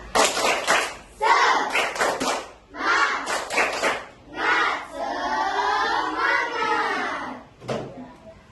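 A classroom of standing children performs a rhythmic spirit clap led by their teacher, bursts of clapping alternating with loud group chanting and shouts, with the children's voices ringing out between the clap patterns.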